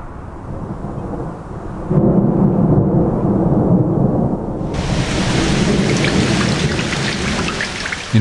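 Heavy rain and rolling thunder in southeastern Tibet at high altitude, a steady loud downpour with deep rumbles that swell around two seconds in and a hissing shower of drops alone, with no voices.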